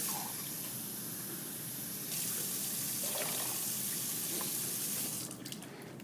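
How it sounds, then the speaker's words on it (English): Tap water runs steadily into a container to raise the level for an egg density test, a broad continuous gush that grows slightly louder partway through and tapers off near the end. "Add some water."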